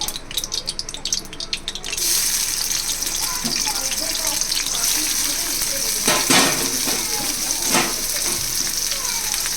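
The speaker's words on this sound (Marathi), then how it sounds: "तेल तापलं आहे त्याच्यात आपण कांदा टोमॅटो टाकूया" Loud sizzling of onion and tomato dropped into hot oil in a black kadhai for prawn masala, a steady crackling hiss that persists throughout, with some clattering at the start.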